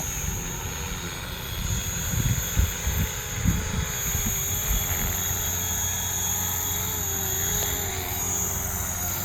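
An RC Airwolf model helicopter with GPS touches down and shuts off its engine, a loud close rotor and engine drone with a steady high whine that slowly winds down, no speech.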